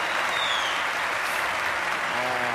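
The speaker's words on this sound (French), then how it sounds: "Applaudissez ma fille" Audience applause at a comedy stage show, a continuous, fairly loud spread of many hands clapping that holds steady throughout, with a faint voice briefly audible near the end.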